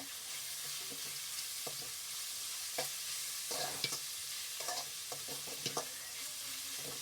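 Paneer fried rice ingredients sizzle steadily in a pan, with a continuous hiss of frying broken by intermittent scraping and stirring strokes of a spatula, close and clear, with no talking.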